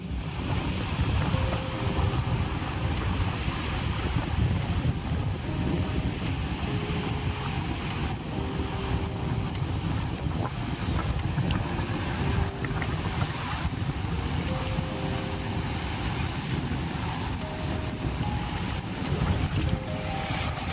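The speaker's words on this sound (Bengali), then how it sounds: "বাবা প্রচুর ঢেউ ভাই" Ocean waves roll onto Da Nang beach in Vietnam on a rainy-season day, a dense continuous roar of surf mixed with heavy wind buffeting the microphone, loud and steady throughout.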